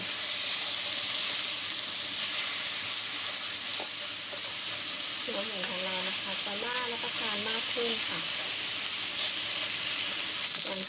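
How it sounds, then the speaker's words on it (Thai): Pork belly frying in a hot pan for a Thai chili-salt dish, a dense, continuous sizzle and crackle of fat close up, with brief stirring and scraping sounds partway through. "หนูก็จะนำหมูสามชั้นนี่แหละค่ะมาจี่ก่อน ขั้นตอนนี้นะคะ หนูก็จะจี่นะหมูให้เหลืองก่อนนะคะ"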